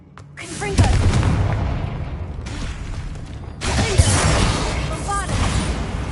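Confringo explosive spell in the video game Hogwarts Legacy, loud booming blasts and crashing debris in repeated heavy waves over several seconds, dense with rumble and sharp impacts.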